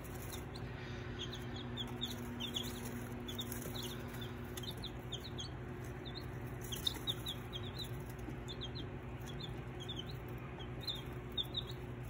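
Many small Wyandotte chicks chirp in a steady scatter of high, quick peeps, close by, over a constant low hum of brooder or room noise.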